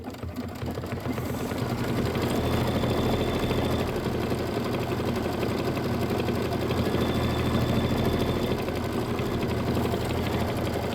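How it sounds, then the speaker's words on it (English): A sewing machine runs steadily through quilt blocks for a pieced autumn star quilt, giving a continuous mechanical whir and rapid stitching patter that holds at one level throughout, with no voices. "And this is 4 minutes of stitching."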